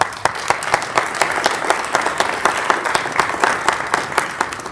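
Audience at a high school freshman academic ceremony gives the students a round of applause, many hands clapping together with audible individual claps throughout, steady and fairly loud.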